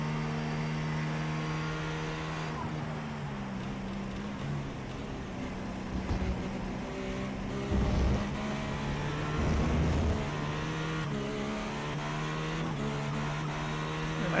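Cadillac GTP hybrid prototype race car engine at Petit Le Mans, a steady loud droning roar with harmonic tones that shift in pitch as cars pass, with brief surges in volume.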